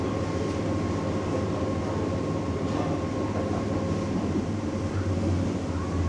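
A 1970s diesel train rumbles steadily over a river bridge from start to finish, a continuous low engine drone with rolling wheel noise and no pauses.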